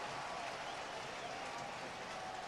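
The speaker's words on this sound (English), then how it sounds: "Crowd likes that." A stadium crowd cheers at a 2004 college football game between Idaho and Hawaii, a steady distant roar that fills the short stretch without a break.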